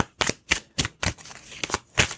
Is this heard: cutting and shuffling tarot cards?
yes